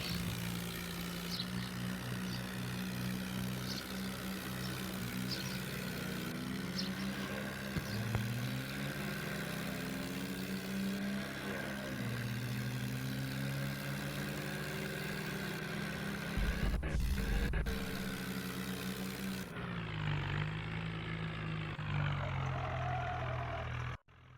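A heavily loaded tractor hauling a large trolley runs its engine steadily and close by, a continuous low droning hum with shifting tones and a brief louder burst near the end.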